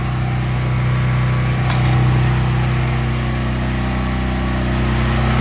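An enclosed Duromax 13000EH backup generator runs close by, powering a four-ton air conditioner, with a loud, constant engine hum and steady mechanical drone that never varies.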